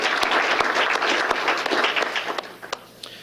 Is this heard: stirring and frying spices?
no